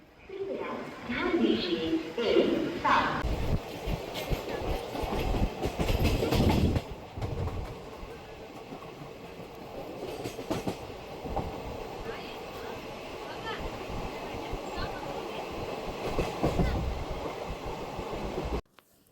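A train rumbles and clatters along the tracks, loud at first and then easing to a steady rolling noise, with people's voices mixed in.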